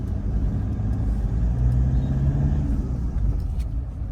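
A Toyota Fortuner SUV drives off on a gentle test run just after servicing, its engine and road noise forming a steady, close, low rumble with no talk.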